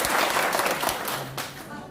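Audience applause at a gathering honouring the poet Nazrul: a steady, dense wash of clapping that holds for about two seconds at moderate level, with a voice speaking over it.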